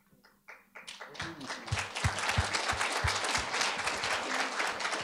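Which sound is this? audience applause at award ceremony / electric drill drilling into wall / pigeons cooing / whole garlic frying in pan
audience applause at award ceremony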